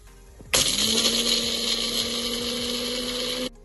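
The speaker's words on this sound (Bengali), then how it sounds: "এবার এই মিক্সচারটাকে পেস্ট করে নেব। এবার এটাকে শুকনো পেস্ট করে নেব।" A mixer grinder whirs loudly for about three seconds, grinding white sesame, green chilli and a little salt into a dry paste, starting abruptly and cutting off cleanly with a steady high motor whine.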